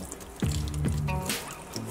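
Warm tap water trickles and splashes into a bowl of flour for flour tortillas, a short uneven pour close by with gurgling bursts and a faint background hum.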